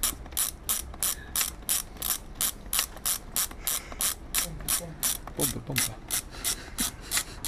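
Boa H3 lacing dial on a snowboard boot being ratcheted tight by hand, giving a steady run of about twenty sharp, evenly spaced clicks close up, with a faint murmur of voice partway through.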